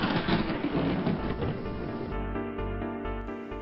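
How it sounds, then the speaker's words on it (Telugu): Thunder rumbles close and loud during a storm, a heavy rolling crash with rain-like hiss that gradually settles into a lower, steadier rumble, with no voices. "అటువంటప్పుడు అక్కడ ఒక పెద్ద మెరుపు వస్తుంది. దీనిని పిడుగు అంటారు."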